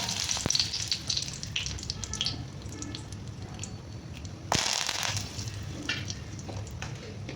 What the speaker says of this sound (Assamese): কলা তেহেৰ মানে সৰিয়হ, সেইটো দি দিলোঁ। তেতিয়া লগে ফুটা আৰম্ভ কৰি দিয়ে